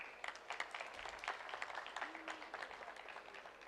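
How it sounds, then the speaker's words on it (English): Conference audience applause in a pavilion hall, a dense steady patter of many hands clapping at moderate distance that lasts the whole stretch without letting up. "A huge round of applause, everybody."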